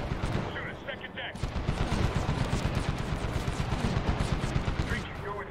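Rapid bursts of automatic gunfire ring out in Medal of Honor (2010), loud and sustained with a rattling rhythm, while voices call out over the shooting.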